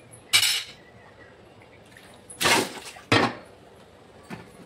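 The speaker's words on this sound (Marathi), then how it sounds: "मी त्या पद्धतीने भांडी मांडते." Kitchen pots and utensils are set down and arranged, giving three loud, close metallic clatters with quiet gaps between them and a fainter clink at the end.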